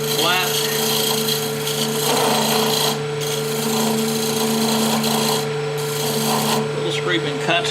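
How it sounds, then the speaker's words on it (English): A woodturning skew takes a light scraping cut on spinning wood on a lathe, producing a continuous rasping rub over a steady motor hum with short pauses between passes. "Little scraping cut."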